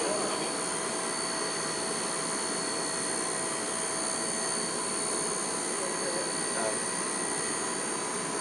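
A small RC aircraft's electric motor whines steadily at high pitch at full throttle, a continuous buzzing drone that holds level for several seconds without easing off.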